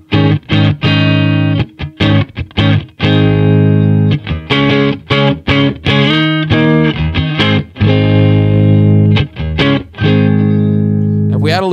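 An electric guitar with a coil-split pickup plays choppy chords and single notes in a brighter, thinner tone, close and loud, with brief pauses between strums.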